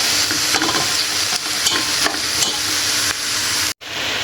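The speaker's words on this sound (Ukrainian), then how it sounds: "Притушую капусточку." Cabbage sizzles and crackles steadily as it braises in oil in a hot pan, with a few stirring scrapes and a brief pause near the end.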